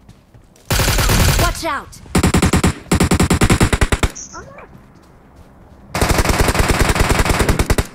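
Automatic gunfire in the PUBG Mobile battle royale game, several long rapid bursts at close range separated by short pauses, with players shouting in between.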